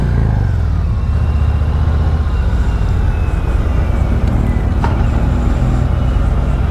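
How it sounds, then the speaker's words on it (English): A Harley-Davidson Road Glide motorcycle's exhaust rumbles loud and close, rising in pitch as the engine revs, a continuous deep throb with road noise. "can you hear the exhaust?"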